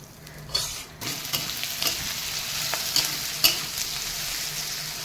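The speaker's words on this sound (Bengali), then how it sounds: "এই জিরে ফোড়ন আর পেঁয়াজ আর এই শুকনো লঙ্কা আর রসুন ভালো করে ভাজতে হবে" Cumin, onion, dry chilli and garlic fry in oil with a continuous soft sizzle, close by, punctuated by occasional scrapes and taps of a spatula stirring the pan; no one speaks.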